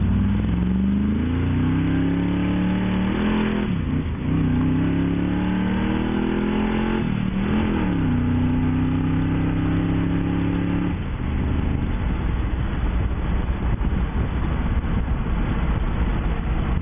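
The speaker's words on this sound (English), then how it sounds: "we're going to do a little acceleration here so you can enjoy the motor" Engine of a 1980 Chevy pickup truck revs repeatedly while accelerating, the pitch rising and dropping in several surges before settling into a rougher, steady roar; loud and close, with no talking.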